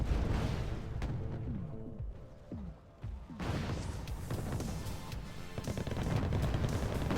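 Distant mortar and gunfire from Wargame: Red Dragon, a scatter of faint thuds and sharp cracks in uneven clusters against a continuous battlefield rumble, with a brief lull in the middle.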